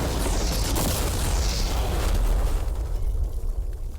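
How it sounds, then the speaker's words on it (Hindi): An ordinary car packed with mannequins is blown up, and a loud, broad roaring blast rumbles on before trailing off into a fainter rushing wash. "चलो उड़ाते हैं एक नॉर्मल कार को और देखते हैं कि पैसेंजर्स बच पाते हैं या नहीं"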